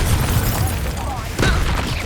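In Hogwarts Legacy, a Confringo fire spell goes off in a short, dull booming blast over continuous game noise and combat sounds, mid-level and brief.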